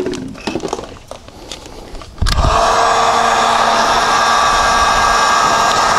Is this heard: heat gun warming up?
yes